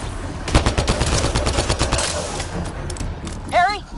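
Rapid gunfire from a sci-fi shooter, Mass Effect: Andromeda, crackles in dense bursts through the first two seconds, then thins out beneath game effects and a rising electronic warble near the end.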